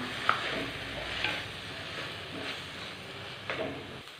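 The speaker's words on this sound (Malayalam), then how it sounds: "ഇത് നമുക്ക് ചേർത്ത് കൊടുക്കാം പൊടികൾ ചേർത്ത് കൊടുക്കാം നന്നായിട്ടൊന്ന് മിക്സ് ചെയ്യാം" Soaked rice and spice powders stirred in a pan give a soft, quiet frying hiss, with a few faint scrapes and taps of the spoon scattered through it.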